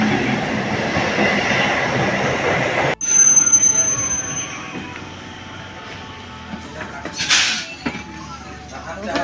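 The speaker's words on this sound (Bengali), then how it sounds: "তো বন্ধুরা ট্রেন আসতেছে দেখো," A train pulls into a platform, a rumbling roar that drops after a sudden cut, then rattling wheels, a high metallic squeal and a brief hiss of brakes, loud and close.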